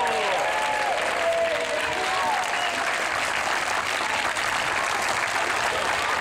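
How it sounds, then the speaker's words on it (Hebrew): Loud, sustained applause from a crowd welcoming a magician at a children's show, with dense steady clapping filling the whole stretch and no talking over it. "אני רוצה שתיתנו המון מחיאות כפיים סוערות"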